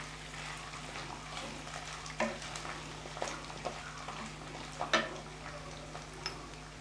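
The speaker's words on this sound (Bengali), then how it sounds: "আমি মাছটা আরও একটু ভেজে নেব।" Gentle sizzle with scattered ticks and spatula taps as fish fries in a pan with cardamom, peppercorns and cloves, quiet and close with a low steady hum underneath.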